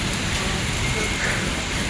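Steady, dense hiss of heavy rain pouring down on a Bangalore night, continuous and loud throughout with no pauses.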